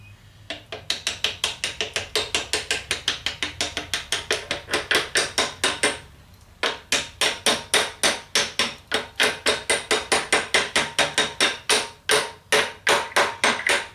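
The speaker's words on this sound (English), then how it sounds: "Now I gotta tap that down in there." Rapid hammer blows tapping down wooden deck boards during a deck repair, dozens of sharp taps in a steady rhythm with a brief pause midway, close and loud.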